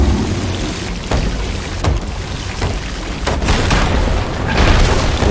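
Heavy cannonballs slam into a wooden ship during a naval fight in Sea of Thieves, a series of loud, close booms and crashing bursts over a constant rumble of sea and wind.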